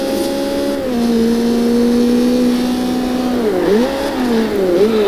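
A car engine revs steadily in Forza Horizon 2, a loud continuous drone whose pitch holds, then dips and climbs again through gear changes, with no talk over it.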